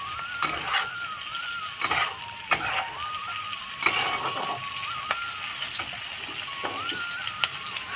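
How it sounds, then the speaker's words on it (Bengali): Chicken frying in a pan over very low heat, a soft steady sizzle with scattered stirring clicks and scrapes, no talking. "এগুলো সেদ্ধ হওয়া পর্যন্ত আমরা একে ফ্রাই করব"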